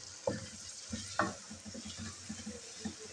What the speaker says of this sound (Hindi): इसको गर्म किया है और इसके अंदर मैंने 2 अदद प्याज हैं जो कि चॉप करके डाले हैं।